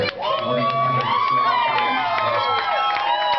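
An excited crowd at a Kingston saloon cheers, whoops and shouts loudly and continuously, with high rising yells and scattered claps layered over a dense roar of voices.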